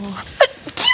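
A single sharp sneeze bursts out close and loud in a garden setting, a quick breathy intake followed by the explosive burst within one second.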